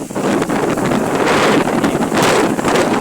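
Strong gusts buffet banana plants outdoors, a loud steady roar of wind with rustling and microphone buffeting filling the whole stretch, no voices.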